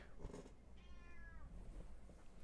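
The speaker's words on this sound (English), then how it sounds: "Meowing." A cat meows once in a clear drawn-out call, then falls silent, with faint background noise and no talking.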